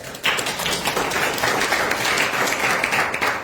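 Audience applause at a talk on Buddha, meditation and neuroscience breaks out suddenly and holds as a dense, steady patter of many hands clapping close by.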